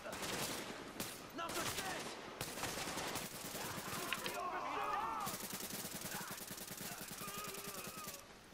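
Rapid automatic gunfire in the video game Tom Clancy's The Division, sustained bursts of shots crackling across most of the scene, with game voices and radio chatter heard beneath and between the bursts.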